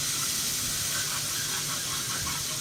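Chana dal frying in a hot tadka, a dense, steady hiss and sizzle, close and even throughout with no distinct stirring or voices.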